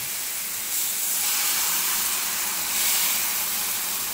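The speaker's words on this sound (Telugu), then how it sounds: "ఇప్పుడైతే దోశ అయితే వేసుకోవాలి." Wheat flour rava dosa batter sizzles on a hot, oiled pan as a steady, close hiss that swells slightly partway through, with no voices.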